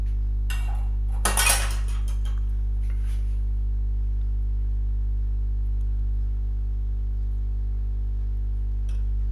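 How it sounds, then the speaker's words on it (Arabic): A utensil stirring milk in a pot for homemade yogurt gives one short metallic clatter of scraping and clinking, then the rest stays quiet over a steady low electrical hum. "وهنا غادي نخلط"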